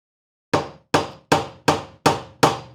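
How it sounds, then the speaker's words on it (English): A hammer strikes a screwdriver six times to drive it into a stripped cam screw, sharp evenly spaced blows each followed by a short ringing decay, close and loud with no talk. "What you can do is take a hammer"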